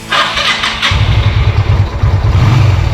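A motorcycle engine on choke fires up after a short cranking whir, then settles into a loud, steady, close-miked idle with an even throbbing pulse.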